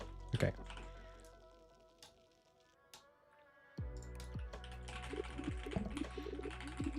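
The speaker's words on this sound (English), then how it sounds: "I love clicking these keys on my new keyboard." Clicking keys on a new computer keyboard: a scatter of crisp taps, sparse at first and then a denser burst of typing, under background music and a voice.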